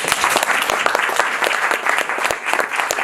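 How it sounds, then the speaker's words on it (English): Dense, steady audience applause at a club show as a returning performer is welcomed back, close and loud, filling the moment without any voices. "Give her a clap."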